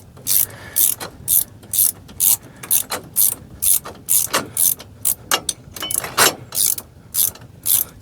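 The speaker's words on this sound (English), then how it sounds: "start by loosening the two bolts that hold the block in the top of the shock assembly" Ratchet wrench loosening the bolts on the shock assembly of a Brunswick GSX pinsetter, a rapid close run of sharp metallic clicks in short bursts repeating steadily, loud and alone.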